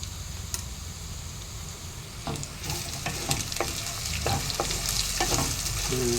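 Boiled cabbage and masala ingredients frying in a pan, a continuous sizzle that grows denser, punctuated by a handful of quick scraping stirs, close with no talking.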